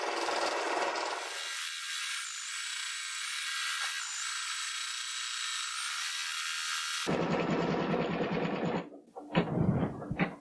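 An embroidery machine stitches a Christmas stocking cuff design with a fast, steady mechanical whir and hum, then stops and is followed by brief rustling and handling noises.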